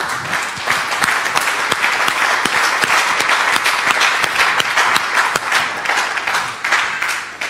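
A church congregation bursts into applause during a service, a dense and continuous round of clapping from many hands that holds steady throughout.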